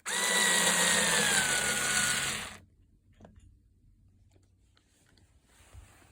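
A power driver spins out screws holding the wire mesh grille on a Fender Bassbreaker 15 guitar amp, one loud steady whir for about two and a half seconds, then stopping and leaving faint handling clicks.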